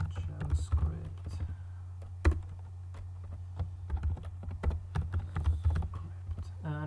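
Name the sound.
typing code on a computer keyboard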